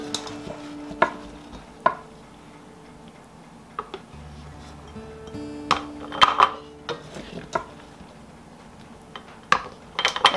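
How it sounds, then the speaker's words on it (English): Green tomatoes dropping through a funnel into glass canning jars for pickles, with scattered light clinks and knocks of glass and produce, a few sharper taps among quiet gaps and a low hum, no talking. "I'm going to take my funnel here and I'm just going to start filling the jars with tomatoes"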